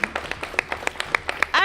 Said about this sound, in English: So yes, round of applause.